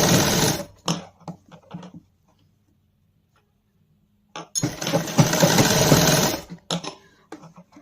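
A sewing machine stitches a sleeve to an armhole in fast rattling bursts. A long pause separates the first run from a louder second run, with short clicks at the ends.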